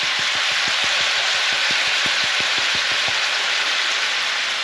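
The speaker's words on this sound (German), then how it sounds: "Jetzt lasse ich das erstmal schön braun anbraten." Beef for a Rindergulasch browns in a pan, giving a loud, steady sizzle throughout with a run of rhythmic low taps in the first few seconds.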